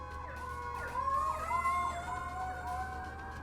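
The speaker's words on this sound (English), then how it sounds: "Lots of sirens outside my house." Several emergency vehicle sirens wail at once in overlapping rising and falling tones, fairly faint and steady, coming from outside a house at a distance.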